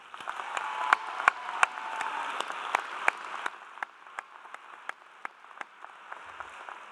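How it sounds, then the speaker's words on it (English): Applause from a commencement ceremony crowd for two graduating valedictorians, a broad wash of clapping with a few sharp nearby claps, gradually thinning and fading toward the end. "Can we give the two valedictorians one more round of applause?"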